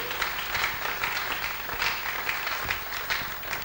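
Church congregation applauding for the Lord as a singer comes forward, a thick, continuous wash of clapping at steady volume with no pauses.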